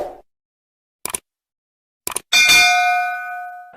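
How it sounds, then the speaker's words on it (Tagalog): A couple of short clicks followed by a bright bell chime that rings out and slowly fades, alone in otherwise silent surroundings. "please subscribe and click the notification bell"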